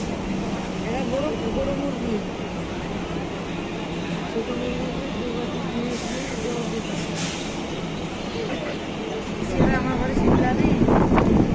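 Sealdah–Ranaghat suburban local train pulling out of Belgharia station, a steady rolling rumble with wind buffeting and brief squeals, heard from on board with voices talking over it.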